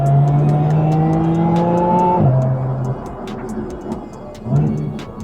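A supercharged car fitted with a Milltek exhaust revs hard with a rising whine. The pitch drops sharply on the shift, then the exhaust gives a run of crisp pops and crackles close by.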